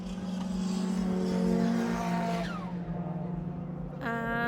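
Cars at a Japanese car show race event roar into a corner at Silverstone circuit, engines droning loudly and shifting pitch as they pass at a moderate distance.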